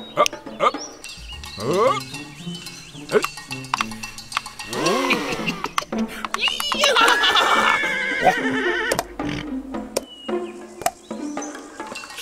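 Horse whinnying with a rising, drawn-out neigh repeated a few times amid clopping and clatter, fairly loud and close, in a Korean folk-tale setting where a horse is offered for sale.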